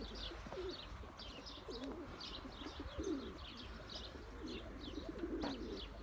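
Pigeons coo repeatedly in a brother's breeding coop of old-lineage Ankara tumbler pigeons, soft rolling calls overlapping at close range, with scattered higher chirps and a faint flutter of wings against a steady low background hum.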